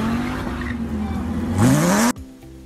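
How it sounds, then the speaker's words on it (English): A car drives through Los Angeles on the way to work, its engine humming and then revving louder before cutting off abruptly into quieter background noise. "I get in my car and I'm off to work"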